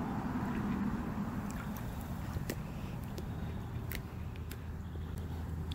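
An Alaskan Malamute swimming in water after a morning bike ride, a continuous close splashing and sloshing wash with scattered sharper splashes and no talking.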